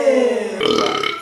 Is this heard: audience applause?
no